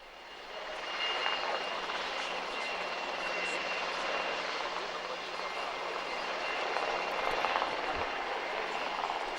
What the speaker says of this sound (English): we now see helicopters with both of the flags of the Kingdom of Bahrain and the papal flag extended.